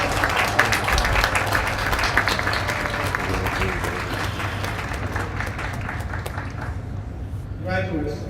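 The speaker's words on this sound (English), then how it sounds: "please join me in celebrating them with a heartfelt bison round of applause" A graduation audience applauds the class of 2025 in a large hall, a dense, sustained wash of clapping that holds steady before thinning out near the end.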